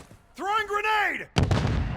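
Grenade explosion in Call of Duty: Modern Warfare 2, a sudden loud boom with a rumbling, crackling tail arriving abruptly after a voice shouts a callout.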